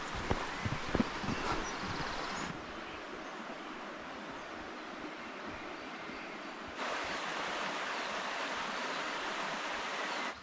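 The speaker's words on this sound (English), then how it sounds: "You can hear the bubbling waters of Oxnam Water, which we just cross over now." Bubbling stream water of Oxnam Water, heard from a crossing along a walking trail in the Scottish Borders: a steady broadband rush of flowing water that drops back midway and then swells louder again, with a few brief knocks early on and no talk.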